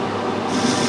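A metal lathe turns a lead chamfer onto the end of a part, giving a loud, steady whirring and grinding drone with a faint squeal, heard continuously for under a second.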